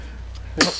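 A baby gives a single short sneeze, a sudden sharp burst after near silence, fairly close and moderately loud.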